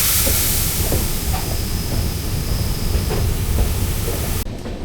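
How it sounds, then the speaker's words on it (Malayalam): A passenger train pulling away from Edamon station on a winding mountain pass over the Western Ghats, a loud steady rumble and hiss filling the whole span with faint rhythmic clacks, cutting off abruptly near the end. "എടമൺ സ്റ്റേഷനിൽ നിർത്തി ആളെയെല്ലാം കയറ്റിയതിന് ശേഷം പിന്നെയും ട്രെയിൻ വിട്ടു"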